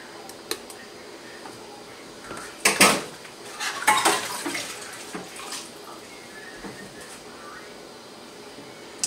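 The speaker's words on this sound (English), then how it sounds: "you will put your lids and rings on" Metal lids and screw rings going onto freshly filled strawberry jam jars, a few sharp clattering clinks of metal against glass around the middle, then quiet handling, with no voices.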